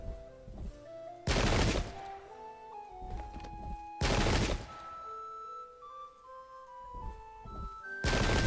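Musket volleys from the Pike and Shot video game's English Civil War battle ring out as three loud, broad crackling bursts spaced a few seconds apart, with quieter game tones and sporadic shots between.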